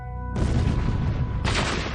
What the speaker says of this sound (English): an incredibly loud, deep explosion very close by, which shook the floor of the house